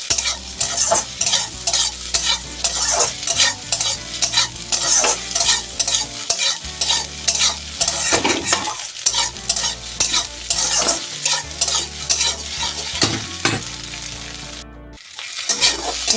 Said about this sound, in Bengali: এটাকে আমি সুন্দর লাল লাল করে ভেজে নেবো